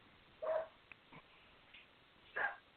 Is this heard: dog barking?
yes